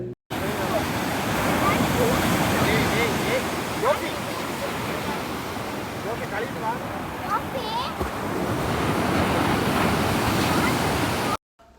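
Surf at Lemor beach, waves rolling in and breaking on sand in a loud, continuous wash that swells and eases with each set, close to the shore with wind on the microphone.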